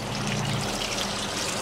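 Water drains from a shower in a steady, close trickle, a continuous wet splashing stream with no voices.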